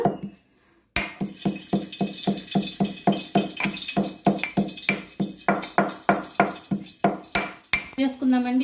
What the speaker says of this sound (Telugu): ఇలాచి, చెక్క, లవంగాన్ని ఇలా కచ్చాపిచ్చగా దంచుకోవాలండి